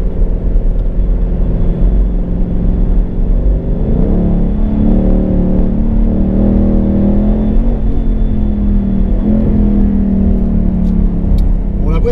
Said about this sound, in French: le bruit gargouillant de ce V8 formidable